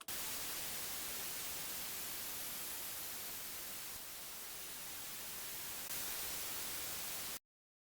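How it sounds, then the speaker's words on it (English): Steady broadband white noise hiss, loud and continuous, dipping slightly in the middle and swelling back up before cutting off abruptly. "So it's a sweep down and sweep up, just a regular white noise"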